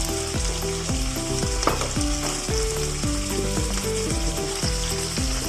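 Spaghetti stir-fried with soy sauce and oyster sauce sizzles loudly and steadily in a pan, with repeated scraping strokes of stirring running through the whole stretch and no voices.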